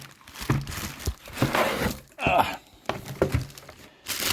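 A water flosser is pulled from its cardboard box, with irregular crinkling, rustling and scraping of packaging and a plastic bag in close handling bursts.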